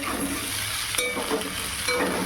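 Pumpkin and boiled potatoes fry in a wok, giving a continuous close sizzle with brief scraping stirs and a couple of spatula clinks.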